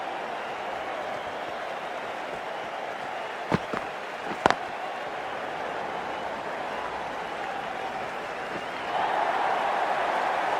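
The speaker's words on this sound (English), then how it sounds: "There's an almost tangible fervour throughout the crowd at the moment." Stadium crowd in the video game Cricket 24, at a T20 World Cup match, keeps up a steady, dense roar throughout, broken by a few sharp clicks near the middle and swelling slightly louder toward the end.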